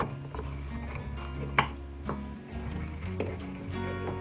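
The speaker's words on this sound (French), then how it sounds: "Voilà, on a moulu nos clous de girofle." Five whole cloves being freshly ground by hand for a gingerbread cake, a close, soft rhythm of crunching and knocking strokes with an occasional sharper clack.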